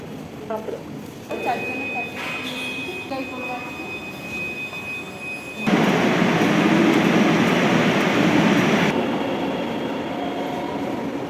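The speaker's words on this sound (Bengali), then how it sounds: "তারপরে রেল মেট্রোতে উঠবো আমরা" A metro rail train running, a steady rumbling roar that swells loud and close midway, with a high tonal whine and brief talk early on before the noise takes over.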